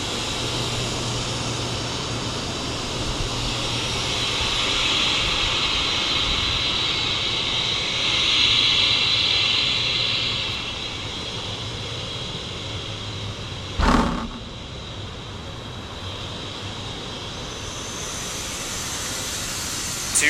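Wind rushes steadily past during a SkyScreamer drop tower ride at Marineland, a broad airy roar that swells and eases, with a sharp knock partway through.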